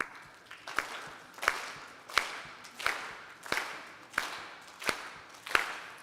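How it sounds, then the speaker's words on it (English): A group of kids at a camp clap their hands in a steady unison rhythm, about one clap every seven-tenths of a second, sharp and fairly close with no talking over it. "Let's clap."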